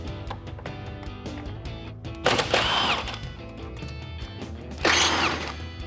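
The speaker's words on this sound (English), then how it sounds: "There's 2 10mm bolts up top we're gonna start with" A power tool or ratchet loosens the 10mm bolts holding the headlight of a 2014-2018 Chevrolet Silverado 1500. It makes a steady, close mechanical whir with two louder, harsher bursts of spinning.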